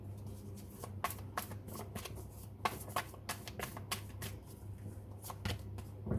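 Cards from a chakra, wisdom and oracle deck are being drawn and shuffled. The sound is a close, quiet series of quick riffling flicks and slaps in an uneven rhythm, with no talking.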